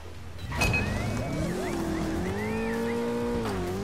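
Engine of a four-wheeler vehicle in the video game Trials Fusion, revving loud and close in a steady droning tone with rising and wavering pitch sweeps, heard alone without talk.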